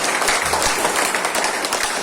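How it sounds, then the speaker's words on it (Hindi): A seated audience at a product presentation in Bhandara claps steadily for a group, a dense, even burst of applause filling the room with no talk over it. "तो इस ग्रुप के लिए एक बार ताली बजा दीजिए"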